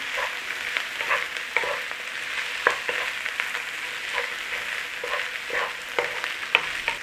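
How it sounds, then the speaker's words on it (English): Corned beef being stirred into Cajun dirty rice in a hot pan: a rhythmic series of spatula scrapes and soft thuds over a low, steady sizzle, close by and with no voices. "Corned beef, either cooked, joint or canned, in there. Stir through."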